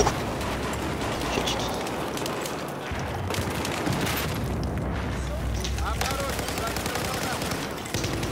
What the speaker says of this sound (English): Mortar, I swear to God.